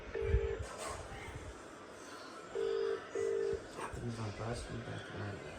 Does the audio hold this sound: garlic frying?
no